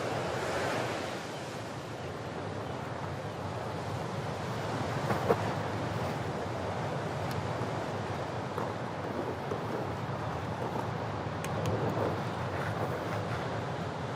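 Sea waves wash steadily onto the wild, unspoiled shore of an island, a continuous broad surf roar with gentle swells and some wind, with no voices.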